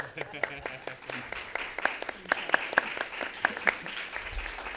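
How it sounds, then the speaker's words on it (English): Scattered clapping from a small audience at a school board of education meeting, sharp individual claps building in the middle, with people talking over it. "I wanted to clap for the staff first."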